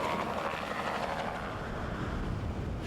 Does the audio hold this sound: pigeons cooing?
no